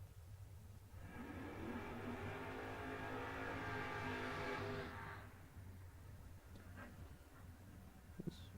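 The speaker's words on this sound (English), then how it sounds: "More door cars rolling forward here." Door-slammer drag racing cars idling and rolling forward to the line at a drag strip, a steady loud harmonic engine rumble swelling for several seconds then easing off, with lower background engine drone around it.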